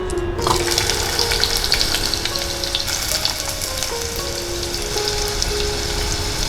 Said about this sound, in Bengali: লম্বা করে কেটে নেওয়া আলুগুলো দিয়ে দেব ভাজার জন্য।